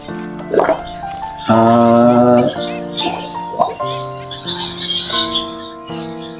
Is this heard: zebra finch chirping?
yes